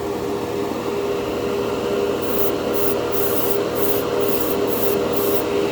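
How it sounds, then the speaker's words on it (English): Steady hiss of spraying Mr. Clear Color GX candy paint onto a Gundam model close by, with short repeated bursts of higher hiss layered over the continuous spray in the second half. "Looks like you're spraying water on these things when you first start off."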